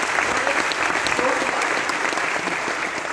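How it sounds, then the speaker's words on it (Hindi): A seminar audience at a business-plan presentation bursts into loud applause, a dense continuous clapping that stays strong from start to finish with no one speaking over it. "एक बार जोरदार तालियां, इतना बढ़िया प्रोडक्ट।"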